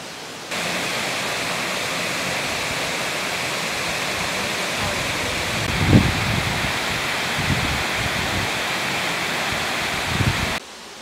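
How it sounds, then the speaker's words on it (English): Dunn's River Falls in Jamaica, a steady, dense rush of cascading water heard close and loud throughout, with a few faint bumps and movements beneath the constant roar. "let's see the rest of Duns River Falls."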